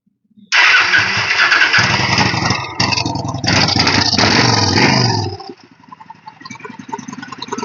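A cheap $100 motorcycle's engine cranks and catches abruptly, then roars loud and close at steady idle for several seconds, dips briefly, surges again, and drops off as it stalls into a faint, sputtering low rumble.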